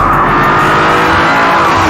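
An Audi TT engine pulls hard under acceleration, a loud, steady, close-up roar that stays dense and unbroken with a gruff, snorty edge.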